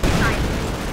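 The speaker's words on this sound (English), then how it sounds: "Mortar round strikes the Panzer Grenadiers are unfortunate." Mortar and gunfire in the World War II strategy game Company of Heroes 2 make one brief, dense crackle of battle noise, with a commentator's voice speaking over it.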